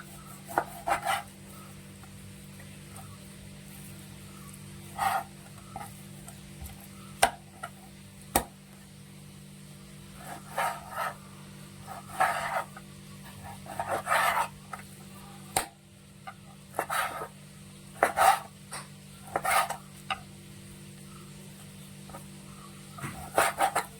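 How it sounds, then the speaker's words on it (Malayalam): A knife chops raw beef into small pieces on a board for a green-peppercorn beef roast, the cuts landing as sparse, faint, irregular taps over a steady low kitchen hum. "ഇത് നമുക്ക് ചെറിയ കഷ്ണങ്ങളാക്കി അരിഞ്ഞെടുക്കാം"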